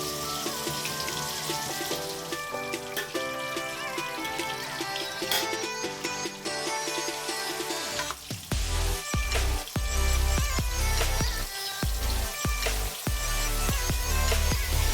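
Carrots and chopped vegetables frying in hot ghee, a continuous sizzling crackle that runs through the whole stretch and grows fuller midway, with music playing over it.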